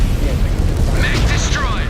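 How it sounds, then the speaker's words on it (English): A video-game mech blows apart in a loud, rumbling explosion with crackling debris, while synthetic tonal effects and voice-like sounds chirp over the top. "Mech destroyed."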